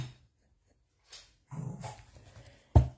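A dog barks and growls indoors in a few short, close bursts separated by silence, ending with one sharp loud bark.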